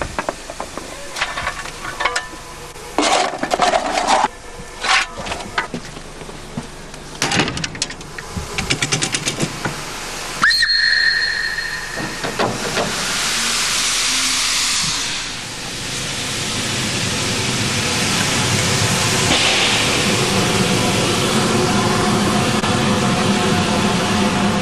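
Steam locomotive on a Spanish railway gives a short shrill whistle and then a long rising hiss of steam, following irregular clanks and rumbles, close and loud with no talk.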